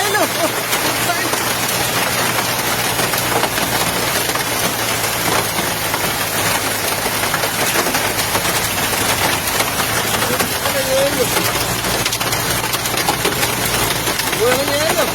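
Hailstones and heavy rain pound down during a storm in Bocaue, Bulacan, making a loud, dense, unbroken roar of drumming on surfaces that fills the whole stretch, with faint voices underneath.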